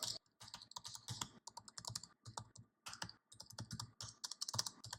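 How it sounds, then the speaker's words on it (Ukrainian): Steady typing on a quiet, low-profile scissor-switch Maxxter keyboard with a 1.5 mm actuation point: soft, rapid key clicks in short bursts with brief pauses, close and alone. "Давайте послухаємо, як звучить дана клавіатура."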